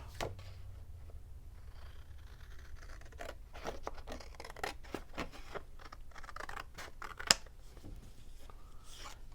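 Paper is cut along a ruler's straight edge while making a handmade journal: quiet, intermittent scratchy snips and slides with one sharper click near the end.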